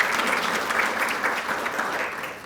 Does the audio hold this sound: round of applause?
yes